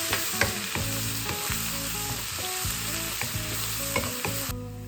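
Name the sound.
chopped garlic sautéing in oil until golden brown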